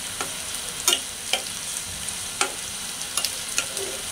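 Pieces fry in a pan over a raised flame while being prepared for a pangas fish curry with pumpkin and greens, a continuous hiss broken by sharp intermittent scrapes and clacks of stirring.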